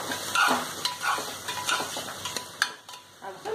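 Potatoes and chickpea bean pods being stirred in a hot pan, with a run of spoon scrapes and soft clatters over a light sizzle, close and uneven in rhythm.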